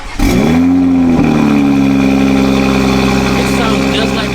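A Toyota Supra with the B58 engine, set to sport mode, cranks and fires up, then settles into a loud, steady, droning idle with strong exhaust rumble close by, while people talk over it.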